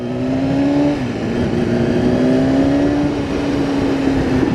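A BMW S1000RR sportbike accelerates smoothly in second gear in its lowest riding mode, the engine note rising steadily in pitch over a loud, continuous drone with wind rush, no talking.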